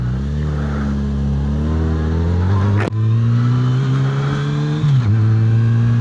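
Yamaha FJR1300 sport-touring motorcycle engine running steadily while riding down a country road, a loud, continuous close-up drone with smooth pitch shifts as it changes speed, plus brief gear-change dips.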